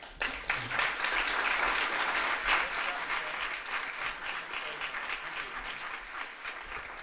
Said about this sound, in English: big round of applause for Michele